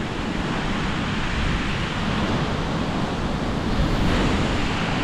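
Strong ocean surf rolls continuously onto a beach, a loud, dense wash of breaking waves mixed with wind buffeting the microphone, with no voices.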